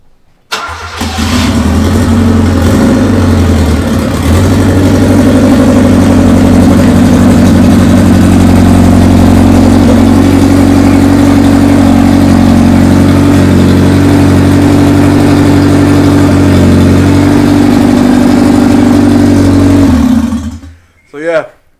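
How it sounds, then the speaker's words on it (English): A turbocharged Honda D-series engine in a hatchback starts and settles into a loud, steady, low idle that runs for about twenty seconds and cuts off at the end, with people talking briefly over it. "Sounds aggressive for a D-series, if you ask me"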